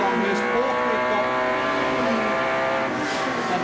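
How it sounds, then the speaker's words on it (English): Touring car engine at the 1991 ATCC round at Lakeside Raceway, heard from an in-car race camera as a loud, continuous, harmonic roar under hard throttle, with commentary talk underneath. "listen to this car and Brock's roar on the race cam"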